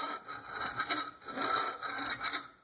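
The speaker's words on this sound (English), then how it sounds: "Now we're going to simply set our file in there very flat. Okay. And you're going to start filing." A 3/16 file rasps back and forth across a metal trap, in four or five close, even rubbing strokes with a steady rhythm and no talking.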